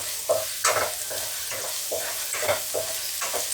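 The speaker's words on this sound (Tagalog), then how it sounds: "Ilagay sa mainit na" Food sizzles steadily in a hot casserole pan while a utensil stirs and scrapes it in a loose, repeated rhythm, close and moderately loud, with no talk.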